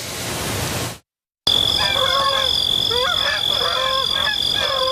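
Geese and other migrating waterfowl honk and call in a continuous overlapping chorus at the north end of Last Mountain Lake bird sanctuary, fairly close, over steady background hiss after a brief silent gap.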